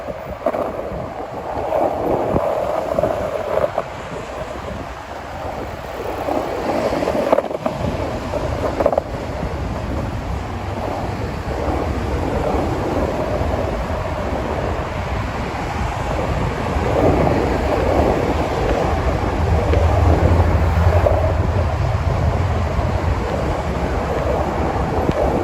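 Strong, gusting wind at Hudson Yards in Manhattan buffets the microphone with continuous rumbling roar for the whole stretch, rising and falling in waves without any speech.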